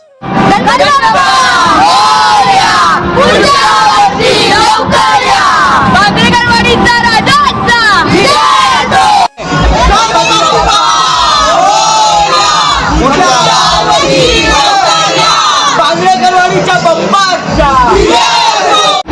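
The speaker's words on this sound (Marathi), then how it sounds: "त्या जमलेल्या भक्तांच्या गर्दीमधून एकच आवाज येत होता" A dense crowd of devotees shouts and chants in unison at a Ganpati immersion procession in Jogeshwari East, Mumbai, loud and close throughout, with repeated rising cries and a brief break midway.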